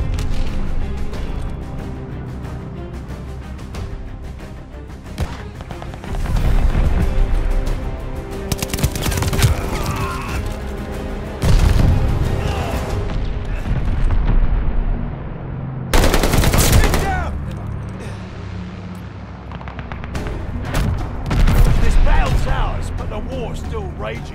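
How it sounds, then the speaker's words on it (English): Call of Duty: Vanguard multiplayer combat: sustained machine-gun fire and rattling gunshots with several heavy explosion bursts from a called-in bombing run, loud and dense throughout, with game voices mixed in. "Teammate called a bombing run."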